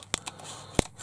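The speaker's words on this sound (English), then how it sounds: "So let's get the pair of scissors, let's cut this" Scissors snipping packaging foil on an electronics evaluation kit box, three sharp close clicks spaced over about a second, the last one loudest.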